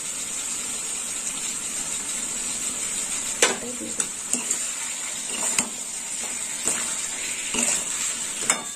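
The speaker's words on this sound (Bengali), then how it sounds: "আর একটু নেড়ে চেড়ে নেবো" Pointed gourd and fried spices stirred in a pan make a continuous sizzle, broken by several sharp scrapes and taps of a spoon against the metal.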